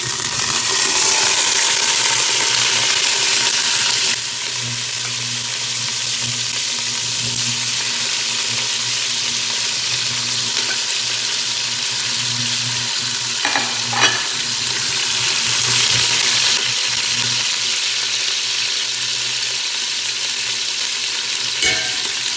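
Steady sizzling of sautéing in a pan for arroz con pollo, with occasional stirring scrapes and a couple of brief clinks; the frying noise stays continuous and moderately loud throughout, with no talking.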